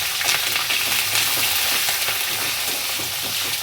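Sliced onions sizzle steadily in hot oil in a pan while cooking bisibele bath, a dense continuous crackle with faint stirring scrapes, close and loud throughout with no voices.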